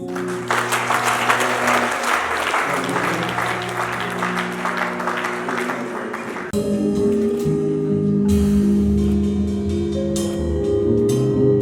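A church congregation claps at a couple's ceremony: broad, sustained applause for about six seconds, then it gives way to loud sustained music with a few sharp accents.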